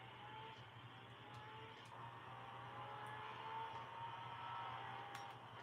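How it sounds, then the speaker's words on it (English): A vintage Lamborghini Countach drives by at a distance, its engine a faint, steady rumble under a wash of background noise, with no distinct pass-by peak. "That was a Countach."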